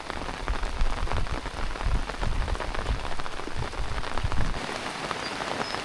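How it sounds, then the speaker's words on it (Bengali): Morning rain pours steadily on a surface, a dense, even patter of drops that holds for several seconds with no one speaking. "সকাল সকালেই বৃষ্টি শুরু হয়ে গেছে।"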